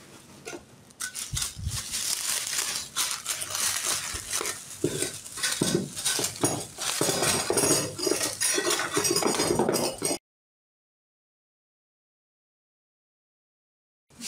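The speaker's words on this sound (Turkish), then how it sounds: "Şimdi kutuyu açtığım zaman şöyle bir uç takımı geliyor." A set of heat gun nozzle tips is handled from a box, with close metallic clinks and rattles for about ten seconds, then silence.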